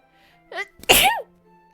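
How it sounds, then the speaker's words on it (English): A single sharp human sneeze with a short inhaled build-up, close and loud, followed by quiet. "I think that's the first time I actually sneezed on chat."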